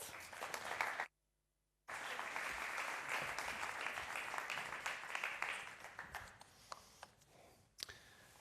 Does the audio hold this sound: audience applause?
yes